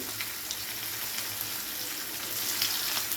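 Chopped onion fries quietly in hot oil in a pan for an okra dish, giving a soft, even sizzle with faint crackles throughout.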